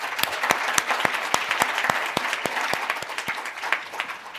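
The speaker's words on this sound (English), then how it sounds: "can we give them a round of applause?" An audience in a hall at a sustainability finance debate in Singapore claps steadily, with sharp individual claps standing out within the moderate, continuous applause.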